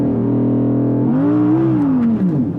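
A 2021 Audi R8 V10 launching hard from standstill on a slippy track with cold tyres: steady idle-like drone, then the engine note climbs and wavers as revs rise and bog, loud and close.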